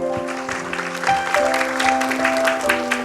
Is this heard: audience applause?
yes